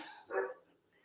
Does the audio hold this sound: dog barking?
yes